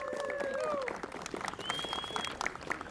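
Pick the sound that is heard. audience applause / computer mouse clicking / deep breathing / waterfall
audience applause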